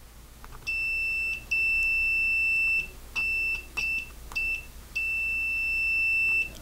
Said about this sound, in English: let's check continuity on this